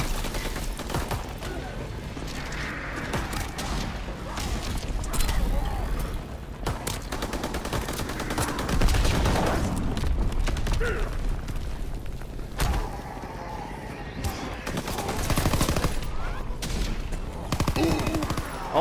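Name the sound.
gunfire at Zeppelin in Call of Duty WWII zombies video game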